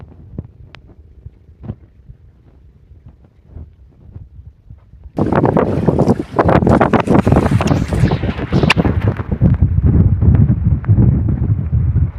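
Quiet low rumbling gives way to loud, sustained gusts of wind blasting the microphone, roaring continuously for several seconds.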